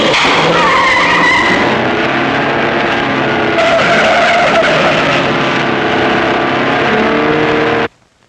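A car in an old comedy action film drives off with tires skidding and squealing over a loud, continuous engine roar, then cuts off abruptly at the end with no talk.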